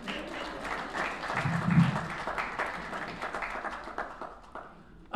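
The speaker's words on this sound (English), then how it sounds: "You can clap." A summit audience breaks into applause, a soft, diffuse patter of many hands clapping at a moderate distance that swells briefly and continues steadily for several seconds, with faint voices mixed underneath.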